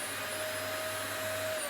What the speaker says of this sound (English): The vac is turned on using this button here